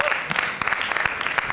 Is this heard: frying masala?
no